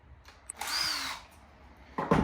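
A cordless drill in drill mode whirs briefly at high speed for about a second, rising then winding down, with a couple of clicks around it.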